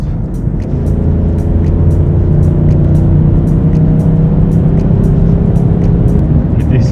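A 2019 BMW M850i Convertible pulls hard on a highway in sport mode, its engine a loud, steady droning roar with rising tones, heard from inside the cabin with wind noise and no talking.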